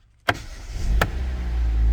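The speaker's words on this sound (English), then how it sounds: "Boom, the car started. See, it's running." A Kia Seltos starts from a hidden switch: a sharp click, the starter cranking briefly, then a second click and the engine settling into a steady, loud low idle.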